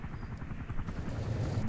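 Helicopter in the video game The Day After Tomorrow, a low, continuous rotor thump pulsing steadily and fairly quietly with no voices over it.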